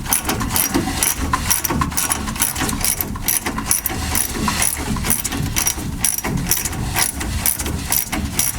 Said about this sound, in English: you're going to take off this nut, which is tying the two together.